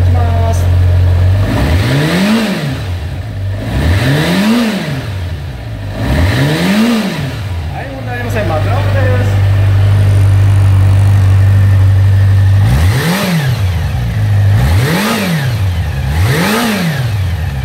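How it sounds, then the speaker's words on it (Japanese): A Kawasaki Zephyr 400 motorcycle engine at idle is blipped through a series of sharp revs, each rising and falling quickly, with a steady idle hum between the bursts and a cluster of three quick revs near the end. "では、吹き上がりいきます。"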